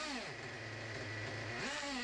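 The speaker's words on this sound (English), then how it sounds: "That's revving, and then it just cut out." Small nitro engine in a Traxxas Nitro 4Tec RC car, a buzzing rev that dips then climbs again, close and fairly steady over about two seconds.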